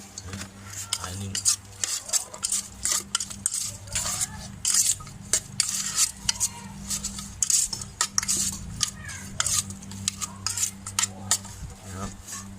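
Minced pork for nam tok is stir-fried in a pan, with a spatula scraping and clattering in fast irregular strokes over a steady low sizzle.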